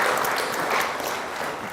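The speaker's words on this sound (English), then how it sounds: "They need to applaud a bit more." Live crowd at a Ghanaian talk show event applauds, a broad, fairly soft wash of clapping that holds steadily and slightly tapers.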